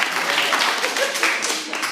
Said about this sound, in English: When I go like this, they should clap.